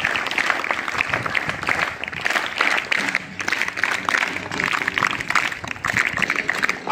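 A school audience breaks into sustained, lively applause for the fifth and sixth standard students, dense overlapping claps rising and falling for several seconds.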